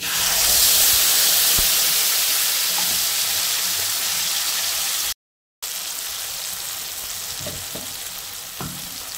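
A steady loud sizzle of spice paste frying in hot oil in a wok, with a brief cut in the middle and a few soft clinks of stirring.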